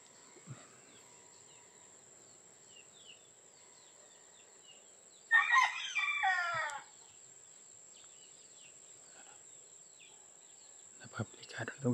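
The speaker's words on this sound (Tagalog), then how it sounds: "maingay yung manok" Rooster crowing once in a short loud burst among chickens, set against a steady high insect drone and quiet rural background with a few faint knocks.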